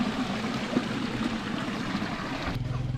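Water flowing through a rocky hill stream near Bandarban, a close, steady babbling trickle with a constant gurgle that briefly shifts near the end, no voices.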